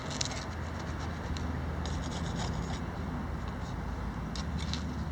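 Hand-sanding Elmer's Pro Bond wood filler on a wooden corner produces soft, gritty rubbing strokes that come in short bursts over a steady low background hum.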